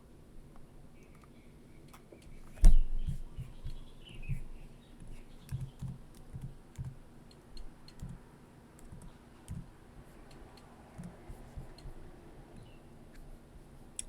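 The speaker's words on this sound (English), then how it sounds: "I'm just typing something." Fingers tap steadily on a computer keyboard at close range, an irregular patter of soft clicks with one sharper knock early on and a faint voice occasionally underneath.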